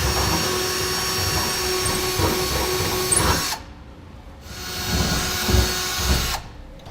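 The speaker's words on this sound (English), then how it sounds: "we can come underneath and begin drilling out our holes" A power drill whines steadily at close range, drilling holes up through a Ram truck's steel frame rail, cutting out briefly and starting again for another run, with no talking.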